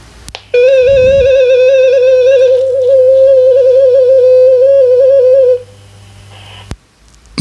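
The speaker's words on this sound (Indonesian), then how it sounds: "FT4 bunyinya seperti ini teman-teman ya" FT4 digital-mode radio signal used for satellite communication: a steady multi-tone warble, loud and continuous for about five seconds before cutting off, with a short click after.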